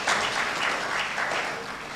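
Audience applause honoring a judge, Justice Jemie, at a formal gathering: a steady, dense wash of clapping that holds at an even level for the whole stretch without pause.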